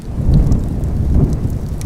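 Heavy rain pours steadily with a deep roll of thunder rumbling through it, loud and close, with no voices.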